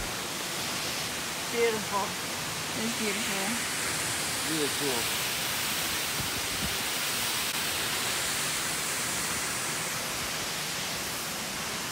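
An Oregon waterfall roars from a spot behind the falling water, a constant, loud hiss filling the scene while people talk briefly in admiring tones over it.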